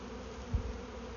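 A honeybee swarm moving into a new hive makes a dense, steady buzzing drone that holds evenly throughout this very short moment, with one brief soft thump partway through.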